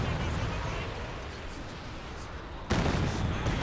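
An artillery barrage in a strategy game, with dense overlapping booms and rumble running throughout, a sharp fresh burst near the end, and a commentator talking over it.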